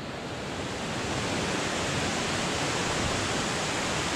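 A wide, flat river flows in a forest park in Maros, Sulawesi, heard as a steady, dense rush of water with no pauses, close and loud throughout.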